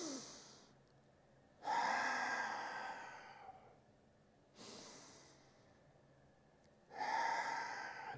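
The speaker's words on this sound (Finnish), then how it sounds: "Eli ulos hengityksellä alas, sisään hengityksellä ylös." Slow, deep breaths in and out during a stretching exercise for groin and inner-thigh muscles, long audible inhales and exhales alternating with quiet pauses, close and alone.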